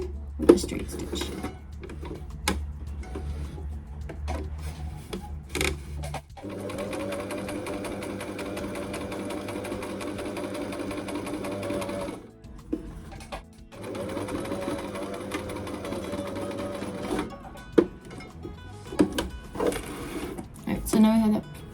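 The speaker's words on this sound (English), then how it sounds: "I'm just going to sew as close as I can to that edge with a straight stitch" A sewing machine runs straight stitching along the edge of a zipper fly on linen pants. There are several close bursts of rapid mechanical whirring, separated by short pauses, with a person talking in between.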